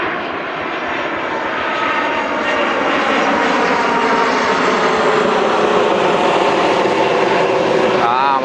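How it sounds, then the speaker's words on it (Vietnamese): A low-flying airplane passes overhead while lowering its landing gear on approach near a lotus pond in a Saigon outskirts district, a loud sustained jet roar that swells and holds steady throughout. "máy bay nhả càng ra rồi đó"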